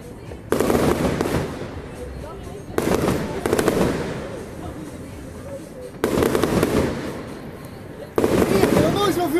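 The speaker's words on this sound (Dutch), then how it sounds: "er is nooit zo'n vuurwerk in deze wijk gezien" Funke Yggdrasil 100-shot colour fireworks cake going off in a residential neighbourhood, loud bursts of rapid crackling volleys separated by short pauses, with people talking nearby.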